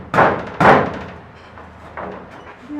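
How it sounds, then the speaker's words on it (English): An oversized rubber mallet knocks twice in quick succession during a camper truck fan install, two solid close thuds followed by a fainter third tap, with quiet room tone between. "good little rubber mallet, oversized rubber mallet"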